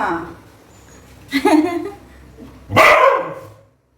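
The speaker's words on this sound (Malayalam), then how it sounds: "ഒരു പട്ടി ഒരു പട്ടി മാത്രല്ല" A dog barks in two short bursts, fairly close by, with people talking around the barks.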